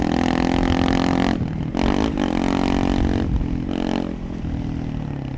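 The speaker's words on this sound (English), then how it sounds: "The way it picks up speed now is crazy." A tuned Honda CRF300 motorcycle with ECU, airbox and exhaust upgrades accelerates hard, its engine note loud and close, climbing through the gears with brief dips at the shifts, and no talking.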